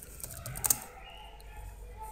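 Computer keyboard typing while entering a SQL insert query in SQL Server Management Studio, a short quiet burst of key clicks with a couple of sharper taps, close and faint, no speech.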